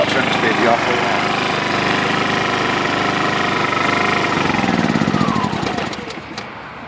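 A small portable generator engine runs loud and steady with a rattling, chugging drone, then winds down and sputters out near the end.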